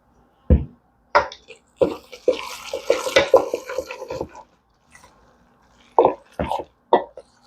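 Broth is poured into holiday cornbread dressing in several short, splashy bursts separated by brief pauses, fairly close and clear with no talking.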